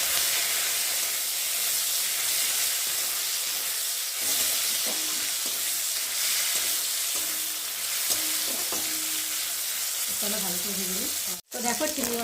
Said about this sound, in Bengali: আগে প্রথমেই আমি চিংড়ি মাছটা ভেজে নেবো